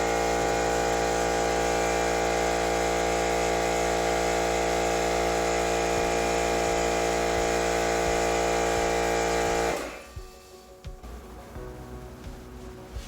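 A container of sand shaken hard to simulate an earthquake gives a loud, steady buzzing rattle for about ten seconds, then cuts off abruptly, leaving faint, uneven background noise.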